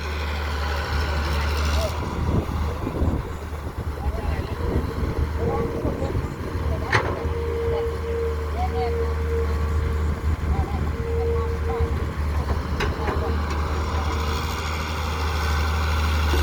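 A Caterpillar CAT E120B excavator's six-cylinder Mitsubishi diesel engine runs at a steady low idle throughout, close and constant, with a faint beeping tone partway through.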